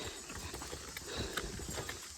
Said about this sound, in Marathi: गाढवं येत आहेत.